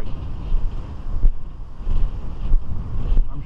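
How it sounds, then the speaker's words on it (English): Strong wind buffets the microphone on a beach on a windy morning, a loud, continuous low rumble with gusty swells and brief harder thumps, with no voices. "I'm sure you hear the wind."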